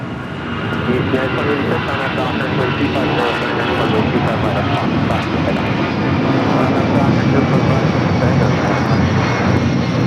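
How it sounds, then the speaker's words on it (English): Delta Air Lines Boeing 757-200 departing LAX, a powerful continuous jet engine roar that builds slightly and holds steady throughout, loud and close. "Delta Airlines 8929 taking off to Houston Hobby on the 757-200."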